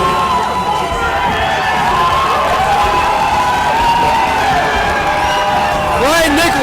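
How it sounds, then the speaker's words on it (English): A big crowd cheers and shouts steadily at a fight night event, loud and sustained with whistles and yells. "Brian Nicholson has one hell of a crowd"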